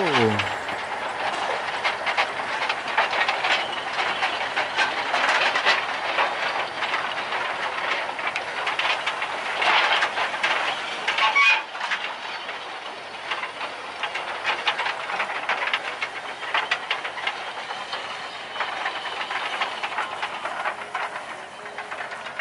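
A locomotive pulling four rail carts loaded with portable track rumbles and hisses steadily for the whole stretch on a sugarcane railway, a continuous mechanical wash with faint clatter, moderately close, with a brief dip midway.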